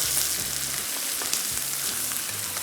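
Spices and turmeric powder sizzle steadily in hot oil in a pot as the base for a chicken stew, a dense, close frying hiss with faint stirring scrapes and no voices.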